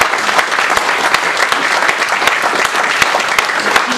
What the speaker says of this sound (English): We need to give her a round of applause for that.